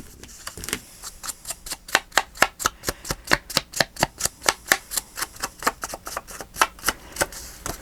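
A paper edge is deckled while making a handmade recipe journal: a steady, rapid run of crisp cutting snips, about three per second, close up and alone.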